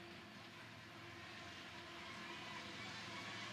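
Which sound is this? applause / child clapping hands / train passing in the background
train passing in the background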